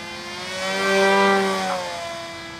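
A small two-stroke engine on an RC model aircraft, close by and loud, with a steady buzzing drone that swells in pitch and volume midway and then eases off slightly.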